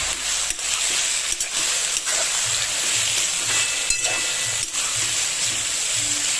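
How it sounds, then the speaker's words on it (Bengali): Sliced ridge gourd fries in hot oil in a pan, giving a steady close sizzle and hiss while a utensil scrapes and stirs through it at intervals. "ধুয়ে রাখা ঝিঙেগুলোকে দিয়ে দেব পরিমাণ মতো লবণ দিয়ে দিলাম এবার নেড়ে চেড়ে ভেজে নেব"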